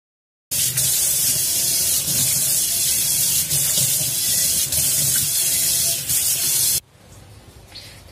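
A kitchen sink is washed with cleaning liquid and water, giving a steady loud hiss of running, spraying water for about six seconds that cuts off abruptly into a quiet room.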